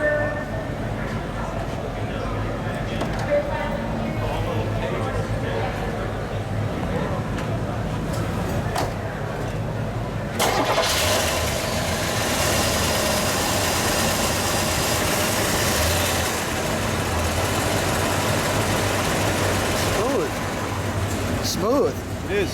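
A 1970 Buick GSX V8 in Saturn Yellow rumbles to life at close range, cranking and catching midway, then settling into a steady deep idle while people talk over it.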